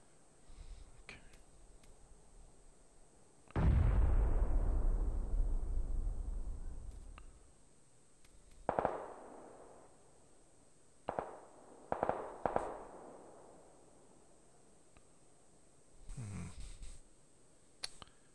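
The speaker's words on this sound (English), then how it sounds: "There's lots of gunfire." Gunfire and explosions in the PUBG video game on Erangel: a loud blast that booms and fades for several seconds, then scattered sharp distant shots and a later muffled burst.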